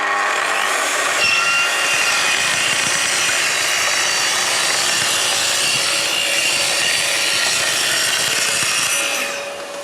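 A Festool TS55 R plunge saw cuts a board along its guide rail, trimming the splinter guard to size, giving a continuous loud whining rasp that holds steady for nearly ten seconds before tapering off at the end.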